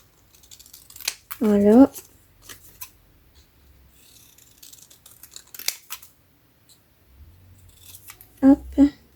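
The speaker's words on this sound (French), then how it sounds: "je vais faire ça au ciseau" Paper is cut with scissors for a scrapbook album page in a few short, crisp snips spaced between quiet pauses, with someone speaking briefly in French between cuts.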